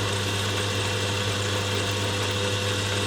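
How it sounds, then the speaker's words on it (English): A steady, continuous mechanical whir of a power drill running a step drill through metal at constant speed, close and fairly loud, with no talking. "start off with the step drill."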